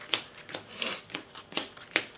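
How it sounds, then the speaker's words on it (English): Power shuffling a deck of trading cards: a series of quick, crisp riffling bursts spaced about half a second apart, close and fairly quiet, with no talk over them. "Gotta power shuffle a bit."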